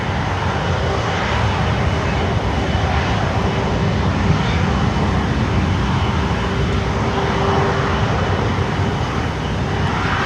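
An airliner on the runway at Miami airport gives a loud, steady jet engine roar that holds without a break throughout.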